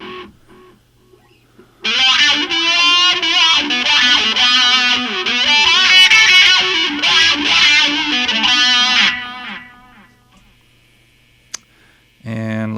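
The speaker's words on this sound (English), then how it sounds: "let's turn on our wah. Let's turn on some fuzz. And let's turn on" An electric guitar plays through wah, fuzz and echo effects on a BYOC Super 8 programmable looper, a loud distorted sweeping phrase with echoing tails that fades before a few clicks and a final strum.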